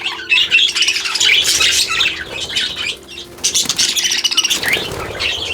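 Budgies squawking and chattering loudly and continuously in an aviary, with dense overlapping calls, a flurry of wing flaps and no voices.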